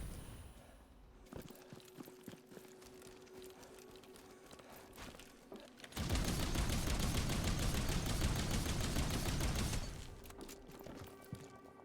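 Artillery barrages in the game Outpost Infinity Siege: scattered thumps and cracks give way to a dense, loud roar of rapid explosions lasting several seconds, then drop back to sparse distant impacts.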